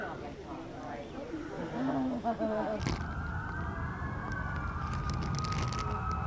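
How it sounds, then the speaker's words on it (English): Emergency vehicle sirens wail steadily in the distance, a rising and falling tone over rumbling outdoor background noise, with a brief burst of other sounds before it. "We've been hearing the sirens for a while, but at 6:23 a.m. they finally come on to the Oval"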